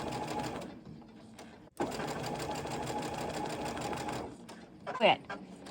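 A sewing machine stitches quilt fabric over pins with a fast, steady mechanical whir, close and continuous with a brief pause, while a person talks over it.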